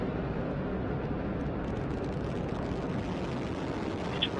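Antares rocket engines roar steadily during a Cygnus launch from Wallops Flight Facility, a continuous broadband rumble that holds at constant loudness throughout.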